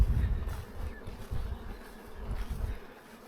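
Bees buzz steadily on a mountain hike along the GR11 in the Aspa Valley of the Pyrenees, a low continuous droning hum that swells and fades as insects pass nearby, with no talk.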